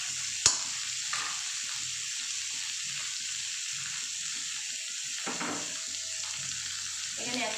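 Tomato pieces with grated ginger and garlic frying in a pan for chicken curry, a steady loud sizzle throughout with occasional stirring clinks, no talking.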